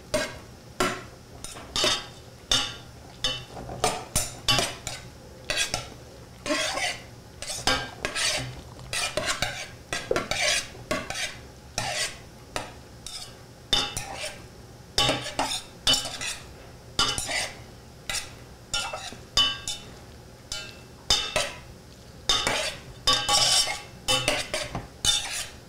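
Utensil scraping and stirring food around in a pan, a steady run of repeated clinks and scrapes against metal with a faint sizzle underneath, close and fairly loud, no voices.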